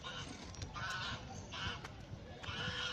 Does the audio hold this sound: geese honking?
yes